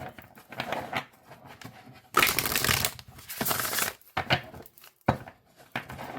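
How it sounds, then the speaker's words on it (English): Oracle cards are shuffled by hand in bursts of crisp, riffling flutter separated by short pauses, close and moderately quiet. "Let's see how they shuffle here."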